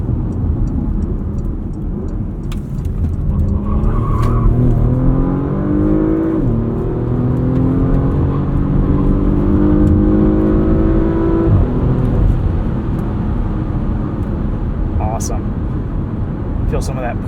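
2022 Porsche Macan S accelerating up an entrance ramp, its engine note climbing steadily through the gears with rising pitch, loud and close from inside the cabin, with a voice talking over it.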